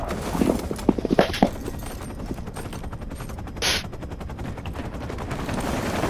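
WSP Swarm SMG with a 100-round drum fired in Modern Warfare 3: a quick cluster of sharp, close shots early on, then a softer, rapid stream of gunfire and game noise continuing underneath.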